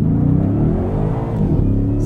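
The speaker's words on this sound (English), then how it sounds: "0 to 60 in under 4 seconds." A 2023 Ford F-150 Raptor R pickup truck accelerates hard on a street, its engine roaring loud and steady with a rising, revving drone throughout, heard close from inside the cab.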